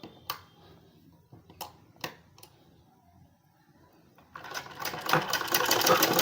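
A sewing machine stitches a straight seam on fabric for a short-cut kurti top. A few separate clicks come first, then the needle runs into a loud, continuous, rapid whirring chatter up close.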